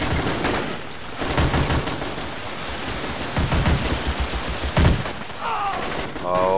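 Artillery guns and gunfire in the war strategy game Strateejik Battles, a dense continuous barrage of shots and explosions with bursts of rapid fire and a speaking voice underneath.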